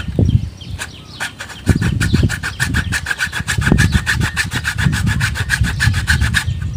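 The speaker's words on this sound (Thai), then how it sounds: "เลื่อยให้ดูเลยดีกว่าครับ" A hand saw rasps steadily through wood in quick, regular back-and-forth strokes, close up and loud, with brief pauses between bursts.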